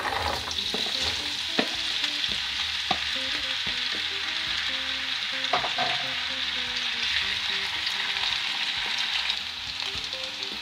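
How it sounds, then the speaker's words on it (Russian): Steady, loud sizzling of potatoes frying in a pan, with occasional scraping and stirring knocks over the continuous hiss. "буду жарить дальше картошку на этой же сковороде"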